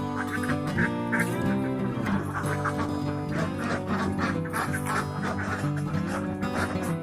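Laying ducks quack loudly and continuously as a dense, overlapping flock close by, the calls piling up in a constant chorus.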